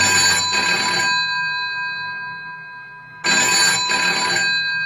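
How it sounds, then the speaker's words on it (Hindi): An old-style telephone bell rings in two loud bursts, each a double ring, separated by a pause of fading ringing. "वो नहा ही रहा था कि उसके कमरे का फोन बजा।"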